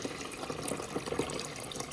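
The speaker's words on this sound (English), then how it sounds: "We're just adding our water." Water splashes and trickles steadily as it is poured into the reservoir of a Euhomy nugget ice maker, a continuous close liquid gurgle with no talking.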